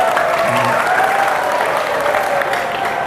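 A school audience applauding the TITL department, a loud, dense burst of many hands clapping together that is sustained for the whole stretch, with faint voices mixed underneath.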